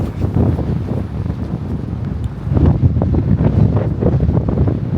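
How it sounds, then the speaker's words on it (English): Strong gusty wind buffets the microphone outdoors on a blustery California day, a loud, continuous roar that swells halfway through, with no voices. "On a blustery California day, but the hair is doing fine. Giving me a nice blow dry."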